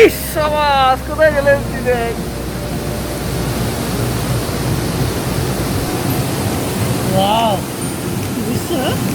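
Seawater flows in at Piyali Island in a continuous loud rushing wash, with a person's voice briefly heard over it at the start and again near the end.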